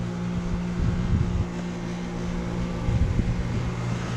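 A 2017 Carrier Comfort central air conditioner starts up outdoors beside other running units, a steady low mechanical hum with fan whoosh and two brief swells in level.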